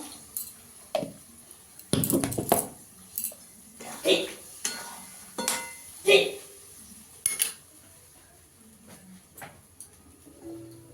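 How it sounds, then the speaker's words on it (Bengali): Clinks and knocks of a mixer grinder jar being rinsed and handled in a home kitchen, irregular metallic taps and splashy bursts spread over several seconds, close but fairly quiet, with birds cooing faintly behind. "মিক্সির বাটিটা ধুয়ে একটু জল দিয়ে দেবো।"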